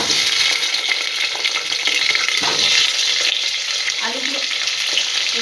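Potatoes frying in hot oil with whole cumin seeds, a loud continuous sizzle with occasional stirring scrapes and clatter close by, no talking.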